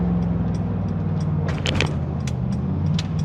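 A 2022 Mercedes-Benz G 63 AMG drives along in comfort mode, its engine giving a steady, close low rumble under a smooth cabin hum, with a few faint clicks and brief swells of road noise.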